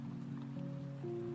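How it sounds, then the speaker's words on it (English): Light rain falling steadily outdoors, a soft continuous patter with a faint hum running underneath. "It's starting to rain again."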